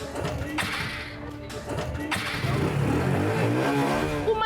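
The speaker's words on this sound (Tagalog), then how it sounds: "At nang sinubukan na niyang paandarin ang kanyang motor," A motorcycle engine sputters to life nearby, then keeps running with a steady, throaty rumble that rises slightly in the last seconds.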